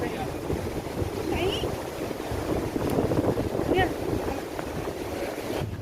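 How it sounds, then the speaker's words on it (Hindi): Strong wind buffets the microphone while rushing water roars nearby at a high spot near a temple in Mathura, with gusty rises and brief faint chirps over the steady noise. "आपको वीडियो में पानी की आवाज़ और हवा की आवाज़ से अंदाज़ा लगी गया होगा"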